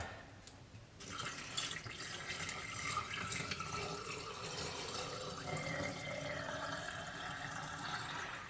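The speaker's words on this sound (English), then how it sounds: "fill it up with cold water." Cold tap water running steadily into a canning jar, a constant rushing splash that starts abruptly and continues at even volume.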